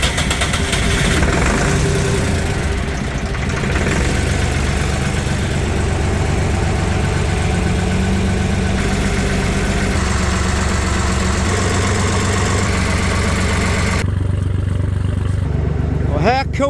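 A vehicle engine cranks into life and settles into a steady, loud, close idle that rumbles on evenly for many seconds.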